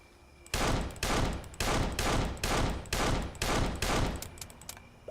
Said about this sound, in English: So let's just shoot at a tree.